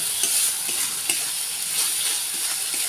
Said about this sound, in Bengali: দিয়ে দেবো হলুদ, নুন দিয়ে দেবো। ভালো করে এটা নাড়াচাড়া করে নেব